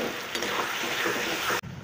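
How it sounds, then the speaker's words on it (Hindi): Carrots and peas fry in masala for a matar paneer, giving a short burst of close, bright sizzling that cuts off abruptly. "अब हम इसे मटर डाल के 2-3 मिनट भूनेंगे"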